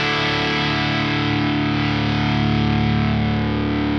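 Guitar lead tone through a ParaEq MKII with its boost engaged, heard as one sustained, heavily distorted note with a rich set of overtones, loud and steady with a slight swell, and no speech.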